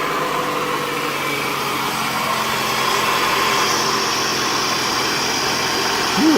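A faulty Toyota car engine idles with a steady, even rumble throughout, close by and fairly loud, with no other sounds on top.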